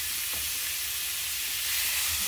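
Meat cooks at 200 degrees in a preheated Panasonic GM-600 multi-cooker, giving a steady close sizzling hiss with faint crackles throughout.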